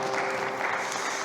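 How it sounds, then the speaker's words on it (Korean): Congregation applause during a Korean church Sunday worship service in Berlin, a brief continuous spatter of many hands clapping, even in level from start to finish. "영광의 박수 올리겠습니다."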